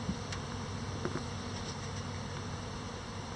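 Honeybees buzz steadily at a hive entrance, a dense continuous hum of many bees close by with occasional individual bees passing nearer, no talk.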